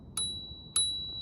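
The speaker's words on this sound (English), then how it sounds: "Bell check." Two quick rings of a small bell on an EcoRoad EC8 electric scooter, each a sharp ding with a clear ringing tone that fades, heard close up against quiet background.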